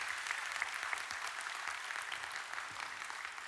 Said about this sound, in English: Give an applause for being alive today.